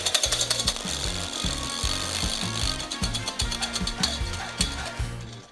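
Egg yolks beaten with sugar until pale, a loud rhythmic mechanical whirring and rattling from the mixer that pulses steadily throughout, with no talking.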